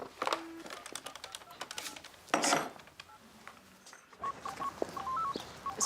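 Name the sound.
mobile phone dialing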